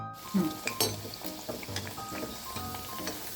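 Masala vada, Tirupati style, sizzles and crackles in hot oil at close range, with scattered pops and faint clinks over a soft, steady frying hiss.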